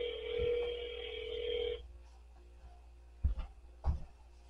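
A single long ringback tone of an unanswered phone call sounds for almost two seconds and then stops, followed by near silence broken by a couple of soft thumps.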